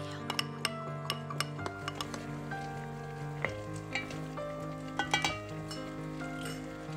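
Shrimp frying in a pan sizzles steadily while a utensil stirs and clinks against the metal now and then, close and moderately loud with no talking.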